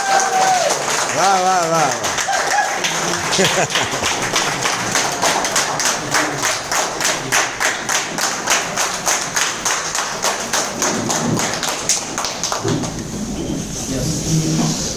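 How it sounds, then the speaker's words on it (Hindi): An audience at a business seminar claps hard and steadily, the rhythmic applause running nearly the whole time, close and loud, with a voice cheering at the start and talk over the final seconds. "तो जोरदार क्लैपिंग, खड़े होके हो जाए"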